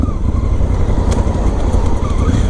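A 2017 Honda Africa Twin motorcycle engine runs loud and close, a steady rumbling idle with slight rises in revs throughout and no voices over it.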